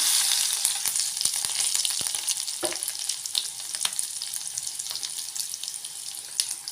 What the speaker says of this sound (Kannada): ಈಗ ಸಾಸಿವೆ ಜೀರಿ ಹಾಕ್ತಿದ್ದೀನಿ ಜಗ್ಗಿ ಇಟ್ಕೊಂಡಿದ್ಮೇಲೆ ಬೆಳ್ಳುಳ್ಳಿ ಹಾಕೋತಿದ್ದೀನಿ